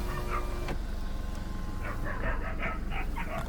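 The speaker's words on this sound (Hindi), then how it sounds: "कुत्ते भौंक रहे" Several dogs bark at a distance near a deserted house at night, short yelping barks over a steady hum of background noise.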